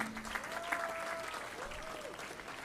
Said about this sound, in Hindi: जरा तालियां बजाएं अपने लिए ही।